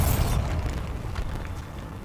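A Bombarda blasting spell goes off in Hogwarts Legacy: one loud, deep burst at the start that fades into a rumbling, crackling tail, with no talk.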